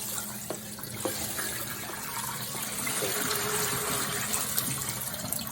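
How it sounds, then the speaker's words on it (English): Cold water is poured over cooked dumplings in a kitchen, a soft continuous rush of running water that stays fairly quiet and even throughout, with no voices. "we will use the cold water to treat it"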